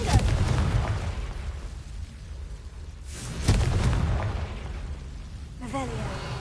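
Fiery spell explosions burst in a Hogwarts Legacy battle, two heavy booms with rumbling decay a few seconds apart, over game ambience and a brief voice.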